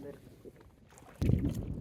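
A rented kayak on the river at Diyabari, Uttara, fights its way against a strong current: low, muffled water and wind noise that surges loudly partway through after a quieter start.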